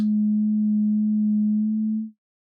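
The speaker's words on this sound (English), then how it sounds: "we were only hearing the resonance filter itself without really the oscillators playing anything" Resonant filter of a VCV Rack software synthesizer ringing on its own with no oscillators playing, a pure steady low sine-like tone holding evenly before fading out abruptly.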